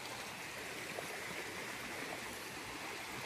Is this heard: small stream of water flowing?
yes